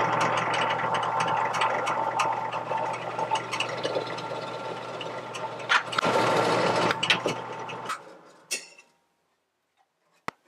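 A power drill bores into wood while making DIY Halloween candy holders, a steady whirring motor hum with a brief higher-pitched burst midway, stopping abruptly and leaving near silence with a faint tap.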